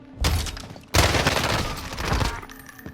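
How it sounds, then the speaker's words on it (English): Gunfire in a team-based shooter video game: dense bursts of rapid shots and booming impacts, a brief pause and then a louder sustained volley, with no talking. "Taking fire!"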